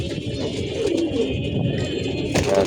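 Rooftop pigeons cooing as a new red pigeon is let loose among young birds, soft low coos running continuously with a brief sharper rustle near the end.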